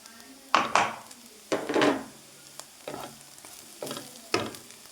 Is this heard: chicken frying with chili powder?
yes